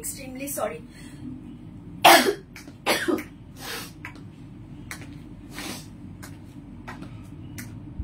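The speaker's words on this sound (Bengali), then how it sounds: "আমি লাইভের মধ্যেই তোমাদেরকে কাশি কাশি করে ডিস্টার্ব করতেছি" A woman coughs a few times in short harsh bursts, with some throat clearing in between, against a faint background hum.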